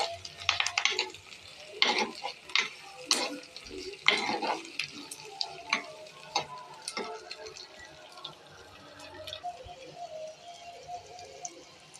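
Onions frying in a pan for Telangana-style mutton curry, stirred with repeated sharp scraping clicks over a soft steady sizzle, close and fairly quiet, with no talk.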